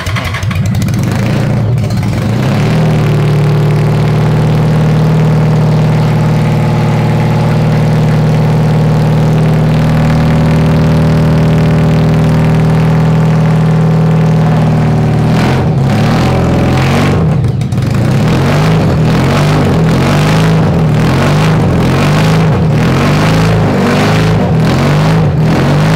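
A 1000cc engine in a mini trophy truck kart idles loudly and steadily, then revs in a series of sharp rhythmic bursts near the end, close and dominant.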